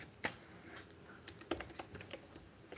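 Fingers typing on a computer keyboard during app coding work, with a quiet, irregular run of soft key clicks and a few sharper taps, close and alone without any talk.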